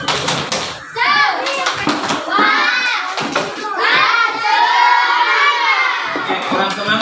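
Children in a classroom shout the tepuk semangat clapping chant together, a loud, lively group of young voices with cheering energy rising and falling across the whole stretch.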